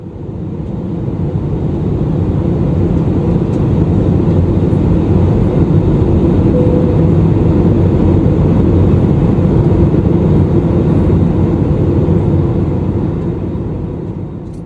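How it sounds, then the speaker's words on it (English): Steady, loud jet engine roar heard from the cabin of a Vueling Airbus A320 in flight, a broad continuous rumble with no breaks for the whole stretch. "I always love the sound of jet engine thrust"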